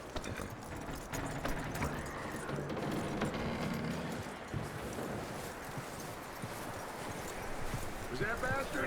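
Hooves of a horse in Red Dead Redemption 2 clip-clop in a steady walking rhythm, moderately close, running under a voice throughout.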